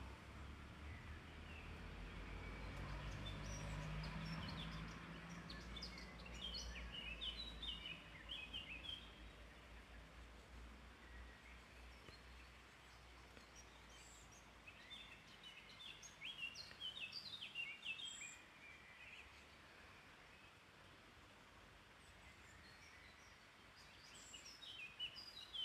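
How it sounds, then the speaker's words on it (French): Birds sing and chirp in a garden: scattered, faint calls and tweets over a quiet outdoor background, with a soft low rumble in the first few seconds. "le chant des oiseaux"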